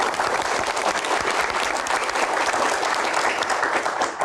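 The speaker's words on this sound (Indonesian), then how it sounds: "Boleh tepuk tangan yang paling meriah untuk Pak Bahlil." A large crowd applauds loudly and continuously, a dense sustained wash of clapping throughout.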